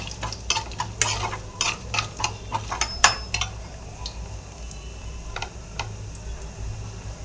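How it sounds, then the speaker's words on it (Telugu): Chana dal, urad dal, cumin and mustard seeds frying in oil for a tempering: crackling and popping over a soft sizzle, with sharp pops clustered early and then thinning out, close and fairly loud. "పచ్చిశనగపప్పు, మినపప్పు, జీలకర్ర, ఆవాలు అవి కొంచెం ఇలా వేగిన తర్వాత అవి ఒక 2 నిమిషాలు వేయించుకోవాలండి"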